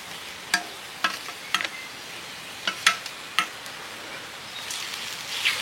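Fried onion being sautéed with garlic paste and ginger paste in a pan, a soft steady sizzle broken by scattered sharp clicks and scrapes of stirring, close and fairly quiet.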